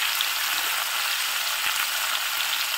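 Vegetables seasoned with salt and turmeric frying in a pan while being stirred, a steady close sizzle and crackle with a faint scrape of the spoon, no voices.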